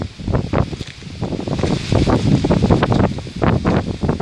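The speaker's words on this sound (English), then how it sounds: "the wind's really picking up now" Wind gusting outdoors across the microphone, a steady rushing roar with repeated louder buffeting bursts throughout, close and fairly loud, with no talking.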